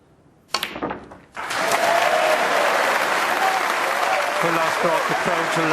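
A snooker crowd applauds a total clearance at the World Snooker Championship, loud sustained clapping that bursts in after a short pause and carries on steadily, with a commentator speaking briefly over it.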